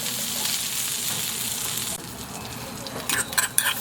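Garlic and onion sizzle and fry in butter in a pan for a stew, a steady close crackle with some stirring clatter near the end.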